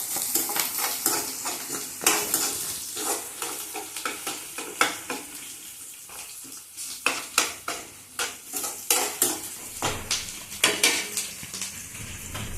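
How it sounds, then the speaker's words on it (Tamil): Ingredients for potato kara kolambu sautéing in a pan: a soft background sizzle broken by repeated scraping and clinking of a spoon stirring against the metal, in uneven bursts close to the microphone. "கொஞ்சம் வதங்கி பாருங்க, கொஞ்சம் வதங்கலாம்."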